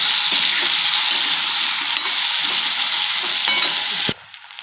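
Sliced raw plantain fries with curry leaves and dried chilli in hot oil, giving a loud, steady sizzle with a few stirring scrapes before it cuts off sharply as a lid goes on.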